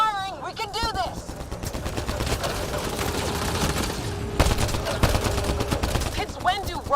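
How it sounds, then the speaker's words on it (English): Rapid gunfire from a Mass Effect Andromeda firefight, dense and continuous bursts of shots with sci-fi weapon crackle and booms, loud throughout, with brief voice snippets cutting in near the start and end. "Just keep firing!"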